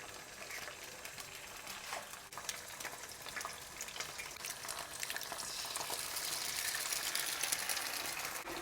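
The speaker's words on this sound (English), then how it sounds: "So just a hot pan and some oil goes in. In goes the egg." An egg frying in hot oil in a pan: crackling sizzle with scattered pops that swells louder and brighter over the final seconds, close and without speech.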